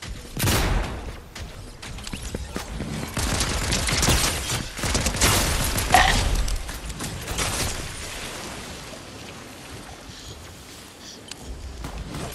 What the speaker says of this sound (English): That was my grenade, buddy.